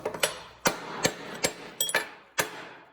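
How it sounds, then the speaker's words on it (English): Metal brackets joined by spot welds, ground where needed, being tapped apart with a hammer: six or seven sharp, ringing metallic blows at an uneven pace, close and loud with no talk. "You grind them where you want them, and then you tap them apart."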